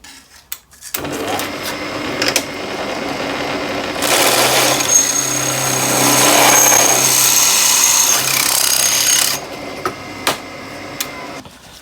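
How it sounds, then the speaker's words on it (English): A pedestal drill whirs steadily, then a louder grinding bite into metal runs for several seconds before easing off, with a few sharp clicks after it. "I'll take the pedestal drill and drill it out"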